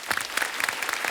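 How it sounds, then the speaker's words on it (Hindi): Energetic studio audience applause on a comedy talk show, a dense burst of many hands clapping close and loud throughout. "पहले जोरदार तालियां।"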